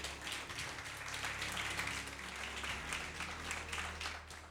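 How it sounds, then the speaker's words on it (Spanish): A church congregation applauds steadily, giving sustained dense clapping from a crowd in a reverberant hall, with no speech heard over it. "¿Qué tal si le das un aplauso al Señor?"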